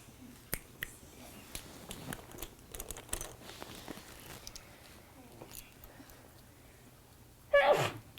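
A single sharp sneeze near the end, loud and close, after a stretch of quiet room noise with faint talk in the background.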